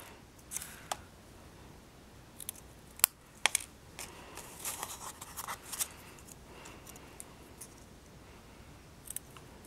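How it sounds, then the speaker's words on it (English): Scissors snip through paper in short, scattered cuts, crisp and close, with soft rustling between them and no talking. "I'm going to take my scissors and dovetail the end of this"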